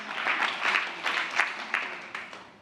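Audience applauds after a group sing of Wade in the Water, a brief burst of clapping that swells in waves and fades out, fairly faint and distant.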